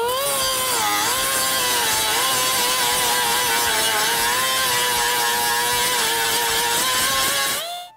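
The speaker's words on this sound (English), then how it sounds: "I'm going to start off actually using the cutoff wheel again to go over the surface" Cutoff wheel grinding a weld flush with old and new metal, a loud continuous high-pitched whine with wavering pitch, steady throughout and cutting off at the end.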